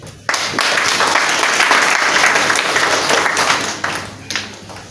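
Loud, close applause from an audience at a talk on women's representation, bursting in suddenly and holding steady before tapering off, with faint voices mixed into the clapping.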